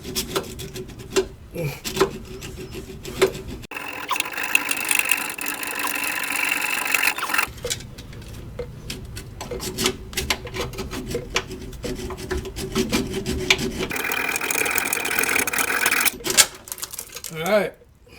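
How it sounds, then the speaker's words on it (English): A small hacksaw cuts through a rusted steel rear brake line under a Chevy Tahoe, giving two long stretches of steady rasping strokes, close and fairly loud, with short gaps and bits of talk between them. "I'm just going to take the little hacksaw again and cut the brake line off right here"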